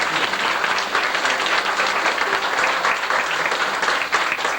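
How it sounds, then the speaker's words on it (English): Steady, dense applause from an audience at a graduation ceremony for a class, filling the room evenly for several seconds with no talk over it. "Let's have a big round of applause for the class of"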